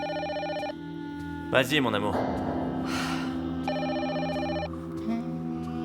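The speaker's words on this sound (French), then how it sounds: "C'est le téléphone qui sonne." A telephone bell rings in two distinct bursts, loud and close, with a scene of people talking between the rings in a French-language TV series.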